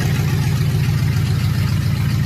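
A pickup truck engine idles with a deep, steady, rumbling exhaust drone from a faulty exhaust, loud and close, with no pauses.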